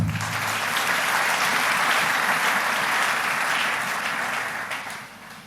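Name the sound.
church congregation applauding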